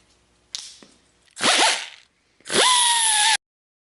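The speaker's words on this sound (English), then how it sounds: "since I'm going to do it with my little air sander, I'm going to go ahead and use that to remove all the mill scale on these" An air sander removes mill scale from steel lawn mower spindles in two short bursts, each spinning up to a harsh, high grinding whine, with a light knock before them and silence between.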